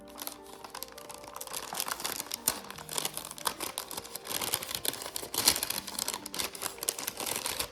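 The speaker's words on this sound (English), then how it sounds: "as I open this portion of the package" A paper stationery package from Japan, sealed with washi tape, is unwrapped up close, giving continuous crinkling and rustling paper with small tearing and tapping sounds, no voices.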